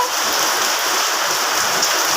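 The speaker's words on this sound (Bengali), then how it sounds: "প্রচণ্ড পরিমাণে বৃষ্টি হচ্ছে আমাদের চালার ভেতরে সব জল ঢুকে গেছে" Heavy rain pours down steadily on a roof, a dense, loud hiss of drops drumming on a surface with no pauses.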